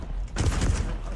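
Gunfire in an online shooter game: a short burst of rapid shots rings out close and loud, with a brief exclamation from a player.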